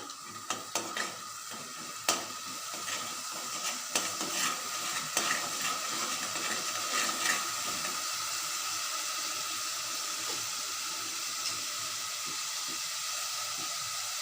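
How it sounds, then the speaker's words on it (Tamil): Ginger garlic paste sautés in a pan for mutton curry, giving a close, continuous sizzle. Brisk metal stirring scrapes and clinks come frequently early on and thin out as the frying settles into a steady hiss. No one speaks. "இப்போ இஞ்சி பூண்டு வாசனை போகிற வரைக்கும் பச்சை வாசனை போகிற வரைக்கும் கொஞ்சம் லைட்டாக வதக்கிக்கலாம்"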